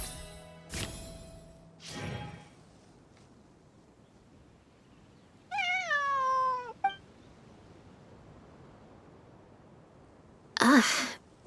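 A cat meows in the video game Genshin Impact; one clear, drawn-out, rising-and-falling meow is heard in a quiet scene, close and distinct, with a few short thumps before and a brief noisy burst after.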